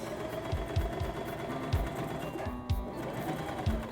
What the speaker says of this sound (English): let's sew that up as well